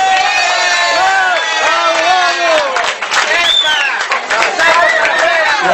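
A crowd at a tribute to an artist cheers and claps, with loud whoops and shouting voices rising over the applause, energetic and sustained.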